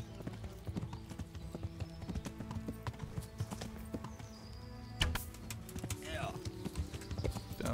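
Horse hooves clip-clop in a steady trotting rhythm amid a busy Kingdom Come: Deliverance game soundscape with music, thumps and effects.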